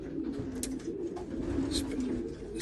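A racing pigeon cock of the golden grizzle bloodline coos in low, repeated throaty murmurs close by, with faint rustling and background noise around it.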